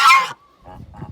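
A goose gives one loud, harsh honk up close, then a brief thin tone and two lower, rougher calls follow; no one speaks during it.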